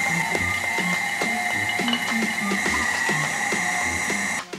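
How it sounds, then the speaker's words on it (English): A manual meat grinder works through pork with a steady, rhythmic ratcheting clatter that repeats evenly for several seconds, close and fairly loud, then stops abruptly at the end; no one speaks. "It grinds my meat just the way I like it."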